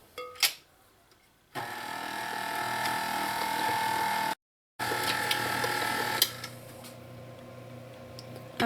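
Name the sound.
mixer mixing rum cake batter with flour and rum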